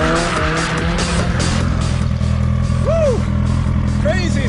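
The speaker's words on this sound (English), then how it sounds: "doing some drifting with cars and seeing what that feels like" Cars drifting at the Kouvola racetrack, engines droning steadily with tire squeals rising and falling over the top, loud and continuous with no pauses.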